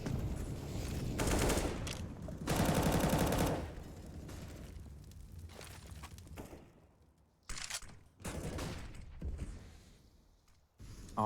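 Gunfire during a CS:GO match on the Nuke map, with several loud rapid bursts of automatic fire in clusters, separated by quieter gaps with clicks and movement.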